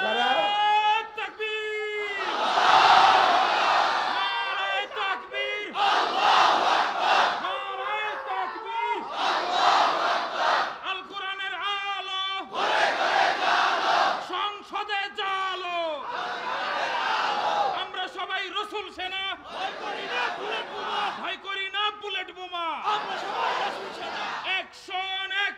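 A crowd at a Bengali Islamic sermon answers in repeated bursts of loud collective shouting, several rising and falling waves of voices that follow each other closely in a large hall.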